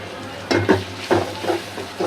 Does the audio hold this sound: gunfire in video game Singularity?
no